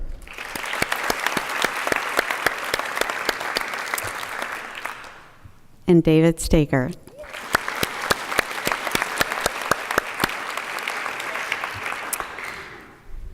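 Audience at a community college alumni hall of fame induction ceremony applauding inductees, two sustained rounds of dense clapping separated by a brief announcer's voice naming someone over a microphone, the second round fading out at the end.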